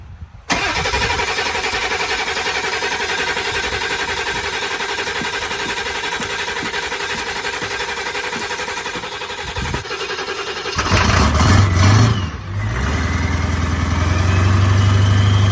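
A 7.3 diesel truck engine with bad injectors cranking through a long, hard cold start, a steady whirring crank for about ten seconds before it catches and settles into a loud, rough idle.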